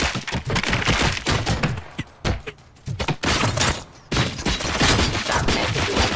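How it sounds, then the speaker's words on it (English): Dense, rapid gunfire from the video game RoboCop: Rogue City, with bursts of shots and thuds packed closely together. The fire stays loud almost throughout and drops away briefly twice. "Discontinue the firing. Give ceasefire."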